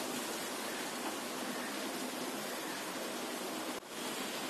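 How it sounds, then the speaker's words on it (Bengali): Chicken pieces frying in hot oil in a pan give a steady, dense sizzle that stays even throughout, broken only by one brief dip near the end. "চিকেনটাকেও আমি আবার একটু ভেজে নেব এই তেলের মধ্যে।"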